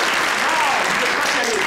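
An audience at a one-man comedy show bursts into full, continuous applause, with a voice rising and falling over the clapping.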